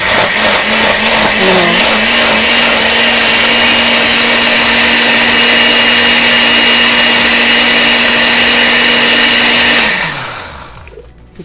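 Blender whirring loudly and steadily while making a breakfast smoothie, holding a constant motor pitch for about ten seconds before winding down and cutting off; a voice speaks briefly near the end.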